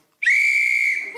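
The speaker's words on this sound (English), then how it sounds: "so blow the whistle" A single sharp whistle blast ending a round on a radio panel game show, loud and close, held steady for about a second with a faint murmur of the studio audience as it fades.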